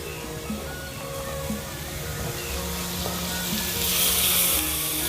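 Thick coconut milk is poured into a hot pan and sizzles steadily, growing slightly louder toward the end, with no voices.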